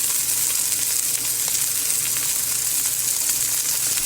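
Onions and garlic sizzle steadily in hot olive oil in a pan, a close, continuous crackling fry with faint pops and no voices.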